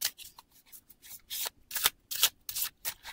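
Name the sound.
cutting a deck of tarot cards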